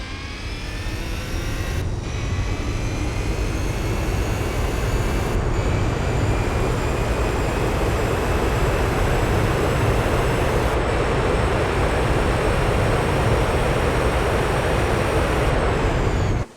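Race car engine held at full throttle in the video game Gran Turismo 4: a loud, steady, continuous roar, with brief dips near two, five, eleven and fifteen seconds that suggest gear changes.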